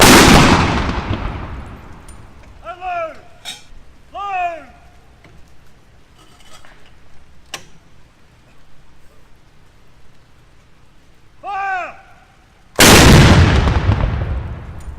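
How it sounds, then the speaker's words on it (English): A 25-pounder field gun fires in the rain at an Armistice Day ceremony at a cenotaph in Dunedin. A loud, booming blast opens the sequence and another closes it, with brief vocal sounds and quiet rain between. "it wasn't enough to dampen the powder on the 25-pound field gun, which fired on the stroke of the 11th hour"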